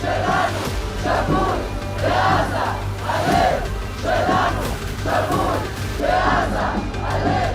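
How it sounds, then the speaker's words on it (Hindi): An angry street protest crowd in Israel demanding that Netanyahu resign chants in loud, rhythmic bursts. The shouts repeat about every second and a quarter, steadily and without letup. "आक्रोशित भीड़ नेतन्याहू से कुर्सी छोड़ने की मांग कर रही है"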